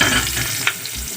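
Sliced onions hit hot oil in a wok and sizzle under stirring, a short burst of frying with a brief clink of the spoon.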